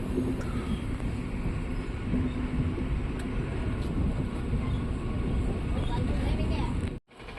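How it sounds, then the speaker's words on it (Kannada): A MEMU passenger train pulling into Rajanakunte railway station, heard from on board as a steady loud rumble of wheels and carriage noise with a few clanks, cut off by a sudden drop near the end. "ನಮ್ಮ ಟ್ರೈನ್ ಈಗ ರಾಜನಕುಂಟೆ ರೈಲ್ವೆ ಸ್ಟೇಷನ್ಗೆ ಎಂಟ್ರಿ ಆಗಿದೆ"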